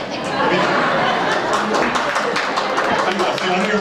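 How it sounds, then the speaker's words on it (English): Audience at a stand-up comedy show at Laughs Unlimited claps in a loose, uneven patter, mixed with chatter and some laughter, fairly close and fading in and out under the room noise. "I hear them clapping up"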